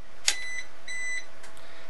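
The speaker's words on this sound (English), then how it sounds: "That beeping is just a uninterruptible power supply for the computer, so ignore that beeping." An uninterruptible power supply for a computer beeps beside a high-voltage X-ray transformer test rig: two short electronic tones, the first a sharp chirp and the second a steadier held beep, over a quiet steady hum.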